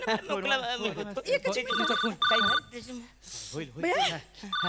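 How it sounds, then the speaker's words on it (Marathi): A phone rings in short repeated electronic bursts while several people talk loudly over it nearby. "खासदारांचा फोन आलाय"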